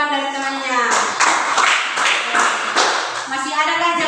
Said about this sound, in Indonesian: kasih tepuk tangan buat jawaban dari temannya